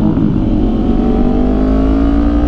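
A Kawasaki Ninja 500 motorcycle engine revs hard and accelerates close by, a loud, steady, rising drone with no gaps from start to finish.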